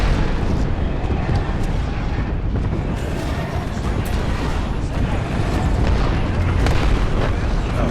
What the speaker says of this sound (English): Threw my grenade out.